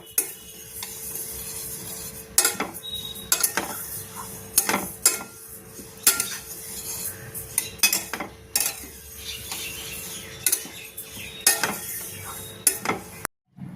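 A sesame and peanut mixture for barfi is stirred in a pan over a gas flame, with frequent sharp scrapes and clinks of a utensil over a faint background sizzle.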